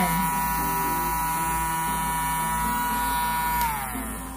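A Wax Vac electric ear cleaner vacuum runs with a steady, close, high-pitched electric whine and buzz, its pitch dropping slightly as it winds down near the end.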